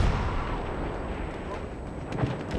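Artillery fire in Battlefield 1 booms amid dense battlefield noise, a constant rumbling roar with sharper blasts near the end, moderately loud and with no voices on top.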